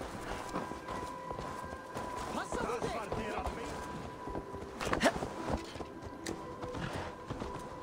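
A horse gallops in Assassin's Creed Valhalla, steady rhythmic hoofbeats running under the game's ambient sound and music, with a brief louder burst near the middle; someone talks over it.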